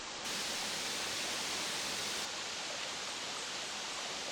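A waterfall on Siquijor island in the Philippines rushes in a steady, dense roar that fills the clip without pause and holds constant loudness from start to finish.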